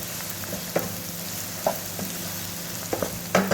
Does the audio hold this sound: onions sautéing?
yes